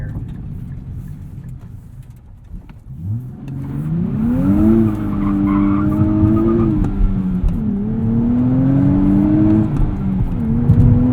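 A 2023 Nissan Z with a Nismo exhaust accelerates from a quiet idle into a loud, rising engine drone, climbing through gears with brief dips between shifts, heard close from inside the car.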